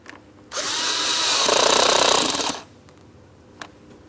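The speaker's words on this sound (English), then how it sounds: "While holding pressure, I'm going to tighten my clamp." A power tool whirs in one sustained two-second burst, rising slightly in pitch, while tightening a hose clamp on the air inlet tube at the throttle body of a 2003-2007 Cadillac CTS 3.6L V6, followed by quiet workshop stillness.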